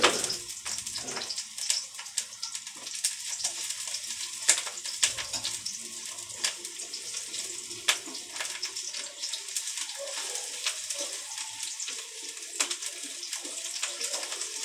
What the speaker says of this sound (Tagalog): Sibuyas yung inuuna ko pag nagigisa.